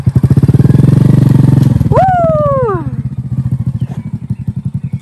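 A motorcycle engine throbs in a fast, close, loud pulsing rhythm as a learner rides off, then slows to a choppier beat while a voice calls out over it.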